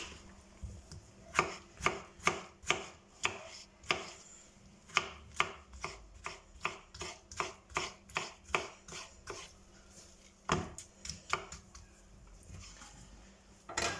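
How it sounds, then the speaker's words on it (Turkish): A knife chops tomatoes finely on a cutting board, sharp close taps in quick uneven bursts with short pauses between runs. "Bir adet domatesimizi doğruyoruz."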